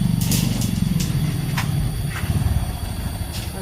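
A motorcycle engine idles and rumbles steadily at close range in a village morning setting, a low continuous drone with a few faint higher clicks and no talk.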